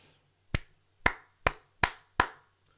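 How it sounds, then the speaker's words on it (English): Five sharp, close hand claps ring out one at a time at slightly uneven intervals, with near silence in the room between them. "Why am I clapping when I have this button over here that I'm using again?"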